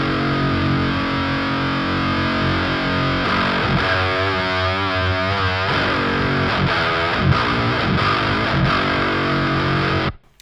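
A heavily fuzzed electric guitar played through a Klirrton Grindstein fuzz pedal plays sustained, buzzing chords and wavering notes with fizzy high frequencies, loud and saturated throughout before cutting off abruptly at the end.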